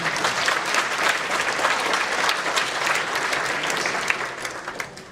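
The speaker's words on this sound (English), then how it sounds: "Round of applause for Slobodan." Applause from a conference audience for a speaker, a loud, dense, continuous patter of many hands clapping, holding steady for about five seconds with a few sharper claps near the end.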